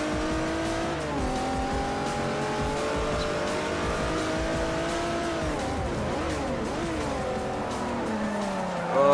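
Race car engine in Forza Motorsport 4 runs loud and steady throughout, with shifting harmonic pitch as it changes gear and brakes, plus tire squeal toward the end; no talking.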